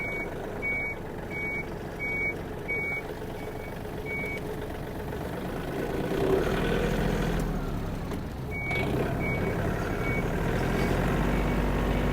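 Reversing tractor, a Yanmar or Kubota compact model, sounding a steady run of electronic reverse beeps over its low running engine, the beeps pausing and then resuming briefly as the engine note swells.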